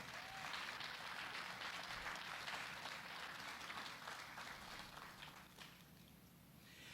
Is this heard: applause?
yes